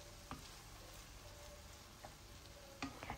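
Bulgur toasting in butter in a pan for tomato bulgur pilaf, a soft, quiet sizzle with a few light stirring clicks and scrapes spread over a few seconds, no talking.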